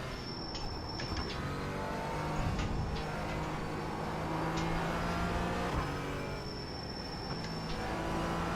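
A GT4 race car engine in the iRacing simulator revs and drops repeatedly with throttle blips and tonal whine, steady and close throughout with no voices.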